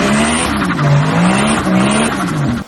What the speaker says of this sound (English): Let's have a listen to his Stock IS200.